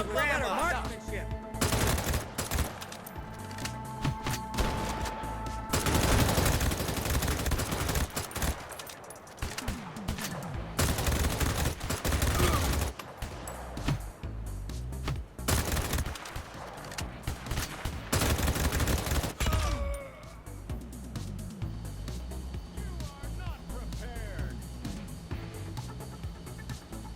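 Rapid automatic gunfire in the Garena Free City open-world action game, loud sustained fusillades and bursts with brief gaps, trailing off into quieter game ambience, while a voice speaks at times.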